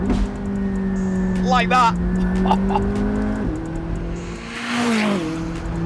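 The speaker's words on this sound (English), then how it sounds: "it's worth it just for the pops from the exhaust" A Porsche 911 GT3 RS in track mode hums steadily from inside the cabin, its engine tone shifting with gear changes and a brief burst of exhaust pops near the end, while someone talks over it.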